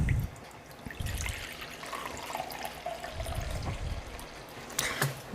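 Regular 5% acidity distilled vinegar pours into a pickling brine for Brussels sprouts, a soft, steady liquid trickle and splash running alone for several seconds at a faint level.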